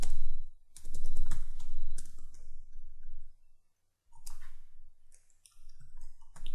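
Someone types notes on a computer keyboard in quick bursts of crisp, close clicks, with brief pauses between the runs of keystrokes.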